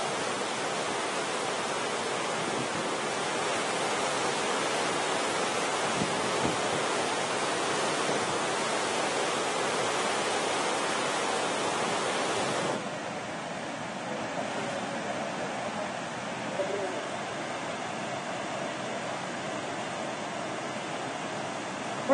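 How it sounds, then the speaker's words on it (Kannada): Floodwater of the Krishna River, running above the danger level, rushes from a dam's crest gates in a loud, continuous broadband roar that stays steady throughout with no talk. "ನೋಡಿ, ಅಲ್ಲಿ ನೀರು ಎಷ್ಟು ರಭಸವಾಗಿ ಹರಿತಾ ಇದೆ"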